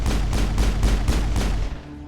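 Rapid gunfire rattles in Mass Effect as shots hit gas bags, a loud burst of about six close, evenly spaced reports that cut off abruptly into a quiet tail.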